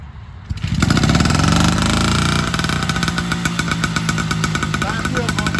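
Vintage 1950 New Hudson Autocycle engine started by pedalling, a quiet start giving way to a sudden loud, rapid two-stroke putter that settles into a steady, close-up running rhythm.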